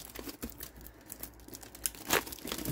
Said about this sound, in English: So we'll just kind of cut this plastic off a little bit.